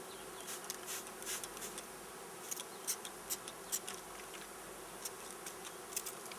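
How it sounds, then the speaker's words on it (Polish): Bees sitting on a hive wall buzz in a low steady drone with individual insects zipping close now and then, brief louder flybys over a quiet hum. "Tu pszczoły siedzą na ściance."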